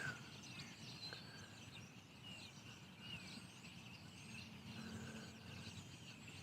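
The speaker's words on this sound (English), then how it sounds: "You can hear all the birds in the trees." Faint, distant birdsong and scattered chirps from birds in trees drift over a steady outdoor hum at a campsite in the afternoon, with no voices.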